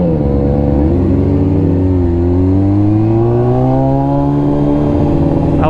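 Suzuki Gixxer motorcycle engine revving up close, loud and steady, its pitch dipping slightly then climbing again across several seconds, no talking.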